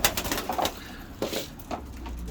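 German tumbler pigeons coo in soft, repeated throaty calls, fairly close, over a steady background hum with no voices.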